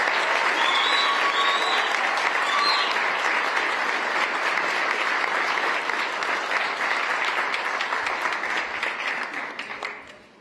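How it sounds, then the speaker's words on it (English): An audience gives sustained applause for the Illinois governor at the opening of the mHub Innovation Center, a dense steady wash of clapping that fades out at the end, with a few faint cheers near the start. "please, round of applause for our governor and all his support"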